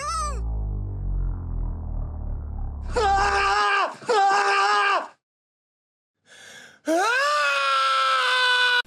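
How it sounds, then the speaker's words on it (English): Tom Cruise screaming aboard a crashing plane in a Universal Dark Universe movie trailer: loud, long, strained cries in several bursts, separated by brief silences, with no other sound around them. "an unintentionally hilarious version featuring a screaming Tom Cruise aboard a silent crashing plane"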